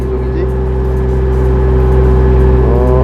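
A Bobcat E20 mini excavator engine runs in second travel speed, giving a loud, steady mechanical drone with a constant low hum that builds slightly toward the end.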